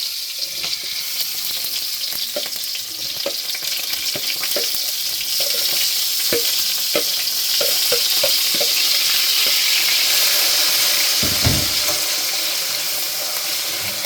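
Peas and turmeric sizzle and crackle steadily in a hot pan, with scattered pops and stirring clicks, loud and close throughout.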